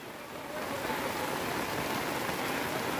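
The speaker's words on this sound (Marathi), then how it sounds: "पावसाची पण सुरुवात झाली." Steady rain hisses down without pause over a weekly village market in Chiplun, India, a dense, even wash of noise that swells slightly at the start and then holds.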